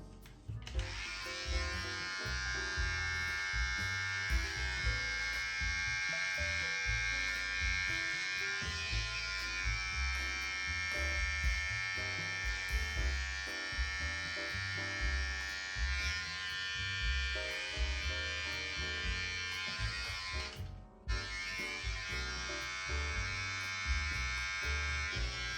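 A Braun Beard Trimmer 7 runs continuously while trimming a beard, a steady close electric buzz with a brief cutoff near the end before it starts again.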